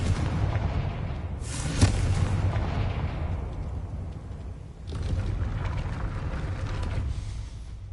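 A Confringo blasting spell strikes a gate in Hogwarts Legacy, a loud sudden burst followed by a long fading crackling roar, then a low mechanical rumble resumes.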